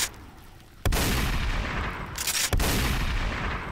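Bomb explosions in the Teardown video game, two sudden loud booms followed by a sustained roaring rumble, close and heavy with no talking.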